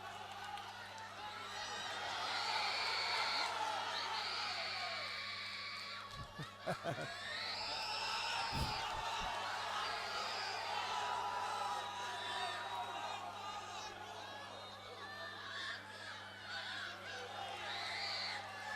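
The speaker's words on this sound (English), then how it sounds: "This is one fired up crowd. I've never heard these kinds of screams." Fired-up crowd at a live MMA fight event screaming and cheering continuously, a loud, sustained wall of high-pitched shouts and whoops with a commentator talking over it.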